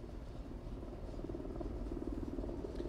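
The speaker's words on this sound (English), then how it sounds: "You can hear that helicopter buzzing up in the sky" A low, steady rotor drone hums continuously in the background, a helicopter buzzing at a distance without any talking.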